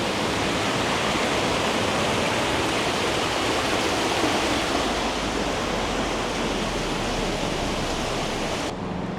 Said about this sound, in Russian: Вот тебе водопад, искал водопад.